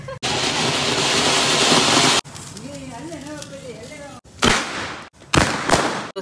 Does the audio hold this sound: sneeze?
no